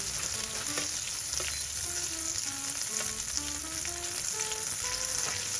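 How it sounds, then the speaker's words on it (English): Chopped onions sautéing in butter, a steady close sizzle with occasional stirring scrapes, alone with soft background music. "we're going to saute them in butter until they are nice and soft"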